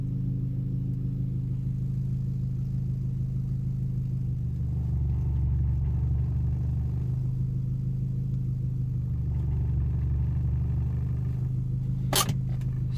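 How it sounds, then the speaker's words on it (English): A VW Jetta engine idles with a steady low rumble and droning hum, its vibration coming from a worn dogbone mount. The tone swells slightly at moments, and a brief click sounds near the end. "I mean, the engine vibrating."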